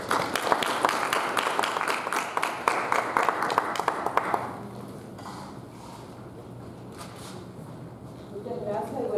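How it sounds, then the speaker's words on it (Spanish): Audience applause at a Saturday-afternoon conference on the first US occupation of the Dominican Republic, loud dense clapping for about four seconds before it thins out and fades into quieter room noise. "con un fuerte aplauso recibamos a la profesora Milagros Ducoy"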